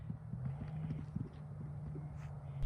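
A ridden horse moves during a riding lesson, its hooves clip-clopping faintly in an uneven rhythm under steady background noise, with no clear talk.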